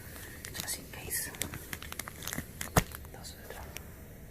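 Tape crinkles and tears close by in a run of quick, irregular crackles and rips, peaking in one sharp snap, while large Ziploc bags are sealed during closet organizing; faint whispery sounds run underneath.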